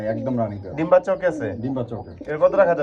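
Domestic pigeons from a healthy breeding pair of feather-footed birds coo in low, rolling calls, mixed in with close, steady talk throughout.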